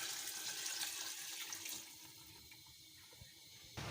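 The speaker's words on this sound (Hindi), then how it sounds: "अब हम इसके अंदर यखनी डालेंगे" Yakhni broth for biryani pours into a pot, a steady liquid splash that is quiet and close, then fades partway through before a brief final splash.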